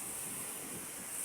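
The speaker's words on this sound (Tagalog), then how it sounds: "malalaki ang alon, malakas ang hangin." Steady roar of rough surf mixed with gusting wind buffeting the microphone as a typhoon approaches a coast in the Philippines, loud and continuous with no voices.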